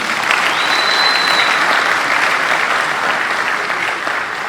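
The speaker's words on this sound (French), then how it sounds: "pour qui je demande d'applaudir bien fort, s'il vous plaît." A crowd at an official gathering gives loud, sustained applause for a government minister, a dense roar of clapping close and steady throughout.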